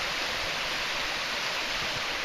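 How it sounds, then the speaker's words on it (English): A small waterfall on the Current River along the Ozark Trail shut-ins, a steady, close rushing wash of falling water that fills the whole clip with no voices. "A nice little waterfall over there."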